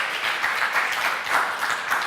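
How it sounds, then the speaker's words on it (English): Steady round of audience applause, many hands clapping together in a dense, continuous wash that stays even and fairly close for the whole stretch. "Can we give him a round of applause?"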